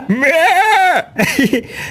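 A male goat bleats loudly and close by during Bakra Eid, one long wavering cry followed by a shorter broken bleat, with no talk over it.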